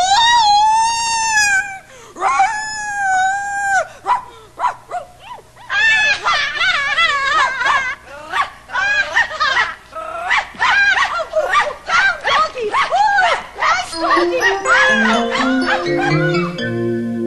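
A voice imitates a dog, with an animated performer letting out several long, wavering howls in a children's TV spell scene, followed by excited, fast talk and music toward the end.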